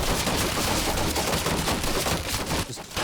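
Sustained automatic turret fire in Quantum Break, a dense, loud rattle of rapid shots filling nearly the whole stretch before briefly dropping off near the end, with no talking.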